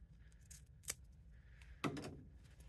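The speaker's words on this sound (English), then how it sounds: "And then I am going to cut this little excess off." Scissors snip through excess fabric lining for a crochet fanny pack, two quick, fairly close cuts standing apart against a quiet room with no talking.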